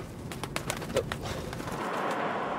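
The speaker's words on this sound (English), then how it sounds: "My doves have escaped." Escaped doves from a magician's magic box coo softly in the background. Rustling and knocking noises are mixed in, with no clear talk.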